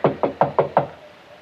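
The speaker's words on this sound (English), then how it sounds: "Better knock harder." Five quick, evenly spaced knocks on a wooden bedroom door, fairly close and crisp, then silence; heard alone with no talk.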